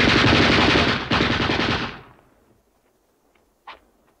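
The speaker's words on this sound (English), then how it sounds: "there are scenes where he's getting shot at" Loud, sustained gunfire from a 1957 science fiction film scene cuts off after about two seconds, leaving near silence broken by one short sharp report.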